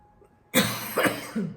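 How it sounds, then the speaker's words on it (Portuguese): A person coughs several times in quick succession, loud and close, after a brief quiet moment. "Tá difícil gravar hoje, uma tosse chata."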